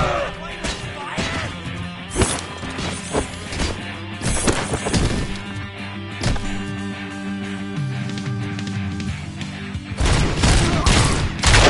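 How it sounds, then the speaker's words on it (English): Rapid bursts of gunfire and heavy impacts crash through a RoboCop Rogue City firefight, loud and overlapping, with booms and clatter over a music bed and no pause. "and then everyone starts shooting"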